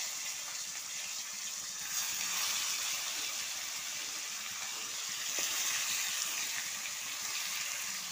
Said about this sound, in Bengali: একবার ওভেনে সেঁকে নিয়ে তারপরে আবার অল্প বাটার দিয়ে রোস্ট করে নিই